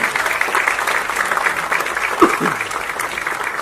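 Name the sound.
applause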